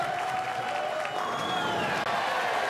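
Barnsley bowling fans at a ten-pin match applaud and cheer in a sustained crowd roar, with a commentator's voice faintly running underneath.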